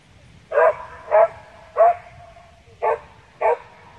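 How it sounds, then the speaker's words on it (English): A neighbor's dog barks five times in sharp, evenly spaced bursts, moderately close and clear against a quiet backdrop. "hopefully the neighbor would have taken in his dog by then"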